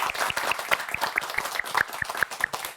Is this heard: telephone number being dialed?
no